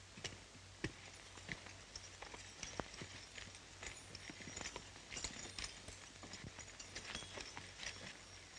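Horses clip-clopping steadily at a walk on a 1936 Western film soundtrack, hooves faint and somewhat distant over a low steady hum, with a few sharper hoof knocks standing out.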